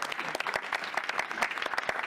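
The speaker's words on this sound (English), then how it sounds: "Give Tracy a round of applause." An audience claps steadily for a performer at an arts event, a dense wash of hand claps sustained throughout at moderate volume, with no voices over it.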